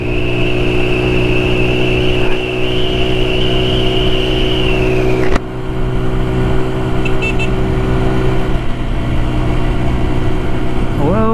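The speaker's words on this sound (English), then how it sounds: "But under 5 minutes, give it a good old full throttle, wide open." A 150cc scooter engine runs wide open on an early morning ride, a steady loud drone with a high whine that drops off partway through, while traffic noise continues underneath.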